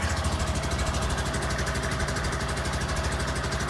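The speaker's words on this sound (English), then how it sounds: "I'm gonna let it run for a couple minutes." Honda Grom motorcycle engine idling after sitting through the winter, a steady, rapid and even close-up putter with a constant mechanical vibration and no talk.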